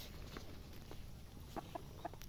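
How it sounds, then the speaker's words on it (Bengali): Chickens cluck faintly in a hilly rural village, a few short soft calls sounding in the later part over steady outdoor background noise. "মুরগি"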